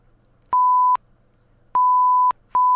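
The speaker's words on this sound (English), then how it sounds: "all those swear words will be beeped out." Censor beeps over swear words in a podcast conversation, three steady electronic tones of about half a second each, separated by short gaps with faint room noise between them.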